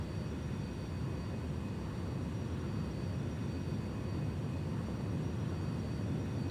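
A light aircraft's takeoff roll down a runway in the X-Plane VR flight simulator: a steady, even engine drone with thin high whines that holds constant throughout, with no talk.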